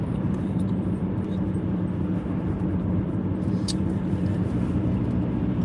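Steady broadband road traffic noise with cars idling and rolling in a queue, a continuous even rumble throughout with no voices.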